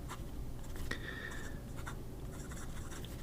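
An Asvine fountain pen with a stub nib scratching across paper: soft close strokes in short bursts with brief pauses, no talking.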